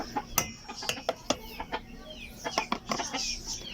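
Silkie chickens in a backyard flock cluck in short, repeated bursts, several birds overlapping at close range with quiet scratching between calls.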